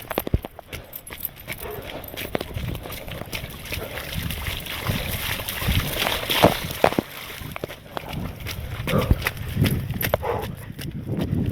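A horse wading into deep water, with steady splashing and sloshing broken by hoof clatter, moderately close and continuous, and faint voice murmurs in places.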